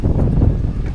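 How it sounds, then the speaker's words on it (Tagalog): Strong wind buffeting an outdoor microphone, a loud, continuous low roar with no pauses over the full second. "lakas ng hangin"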